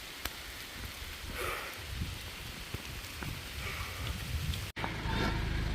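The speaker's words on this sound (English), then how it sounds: "It's hailing." Rain mixed with hail falling outdoors during a 100-mile ultramarathon, a dense steady patter of drops striking nearby surfaces, with a brief dropout near the end before the hiss returns.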